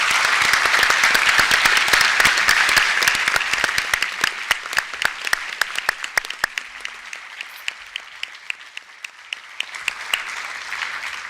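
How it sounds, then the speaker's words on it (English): A forum audience gives candidates loud, sustained applause that swells, thins to scattered individual claps and then picks up again toward the end. "So now is the time where it's appropriate to give some applause to these candidates for us."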